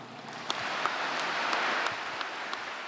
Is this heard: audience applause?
yes